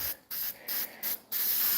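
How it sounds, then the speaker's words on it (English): Copper spray from an aerosol can is applied to a head gasket on a 350 Chevy engine in a Jaguar, heard as four short close hissing bursts with brief gaps between them. "copper spray"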